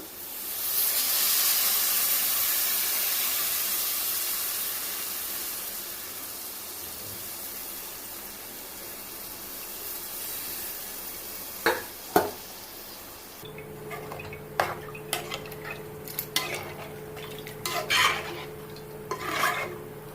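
Tamarind water is poured into a pot of simmering drumstick dal, giving a steady hiss and bubbling that later turns into irregular stirring knocks and clinks of a utensil against the pot, heard close and without talk.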